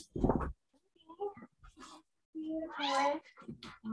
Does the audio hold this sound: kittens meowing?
yes